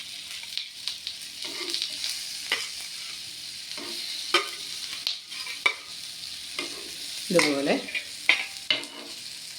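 Flattened jackfruit seed appam dough pieces fry in a little oil on a pan, producing a soft continuous sizzle with intermittent scraping and stirring clatters, close by; a voice speaks briefly.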